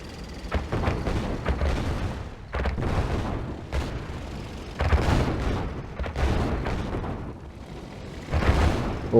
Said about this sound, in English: needs to be careful of the explosion there